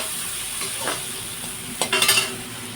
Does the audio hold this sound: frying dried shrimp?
yes